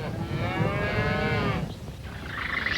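Cattle rounded up for the slaughterhouse, a single long, drawn-out moo from a nearby animal, followed by a quieter outdoor wash of noise.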